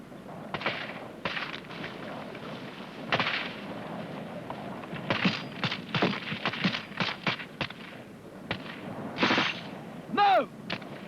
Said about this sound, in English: Rifle group, rapid, fire! Gun group, fire!